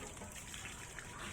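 Water gushing and splashing as pets' water is poured out and changed, a short steady rush of liquid.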